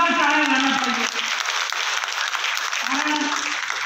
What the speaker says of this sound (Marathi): त्यांच्यासाठी जोरदार टाळ्या झाल्या पाहिजे